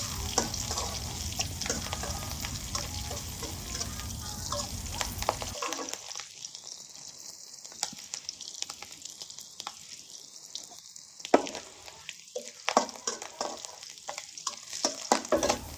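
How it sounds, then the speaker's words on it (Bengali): Bottle gourd with green chillies sizzles in a pan as it is stirred, a dense frying hiss at first, then quieter scraping stirs with bursts of sizzle, no talking. "এখন এর মধ্যে দিয়ে দেবো আমি কাঁচামরিচ ভালোভাবে নেড়ে ছেড়ে নিলাম"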